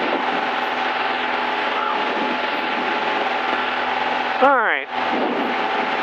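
Zenith CH 750 Cruzer light aircraft taking off, its engine roaring as a loud, steady drone heard from inside the cabin, with a voice speaking over it and a brief warbling tone near the end.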